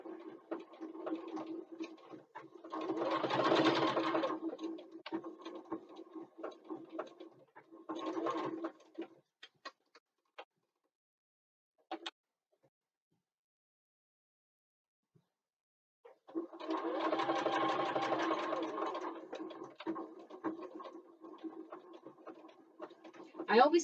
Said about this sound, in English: So we sew down the short ends, 1/4 inch seam allowance.